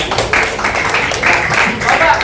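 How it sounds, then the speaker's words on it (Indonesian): Students in a classroom during a lesson about the Eid sacrifice clap together in an energetic, close round of applause, uneven bursts of hand claps mixed with chatter and voices. "tepuk tangan buat kalian semuanya"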